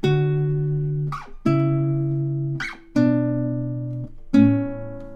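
Guitar plucking a slow Baroque chaconne melody in parallel tenths, four sustained two-note chords ringing out one after another with brief gaps, close and clear, no talking.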